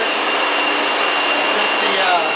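A homemade belt sander runs wide open at about ten miles per hour, a loud, continuous whirring roar with a high steady whine and no breaks.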